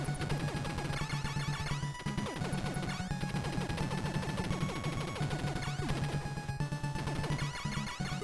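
Rapid gunfire from the NES game Contra, a relentless stream of quick shots and blasts layered over driving chiptune music, loud and busy with no talk.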